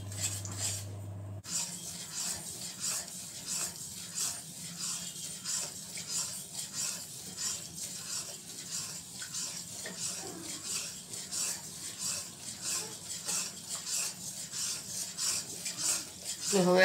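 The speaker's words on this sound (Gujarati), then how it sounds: "આ ગોળને અને ઘીને મેશ કરી લેવાનું છે" Jaggery and ghee being mashed together in a pan while making winter gundar pak, a steady close scraping and rubbing of a spoon against the pan with a soft sizzle underneath, continuing without pause.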